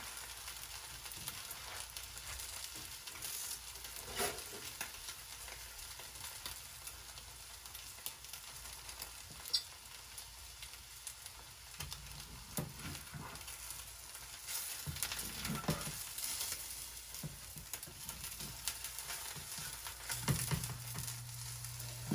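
Sharp cheddar cheese melting in a hot pan gives a steady soft sizzle and frying crackle throughout, close and fairly quiet, with a few small scrapes and clicks, no talk.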